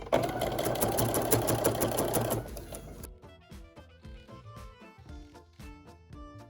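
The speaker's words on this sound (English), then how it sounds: "We're basically going to be top stitching all of those seam allowances pointing upward, just with a little edge stitch like this." Sewing machine edge stitching neoprene face mask fabric, a fast steady motor whir for about three seconds that stops abruptly, followed by quiet light clicks and handling noises.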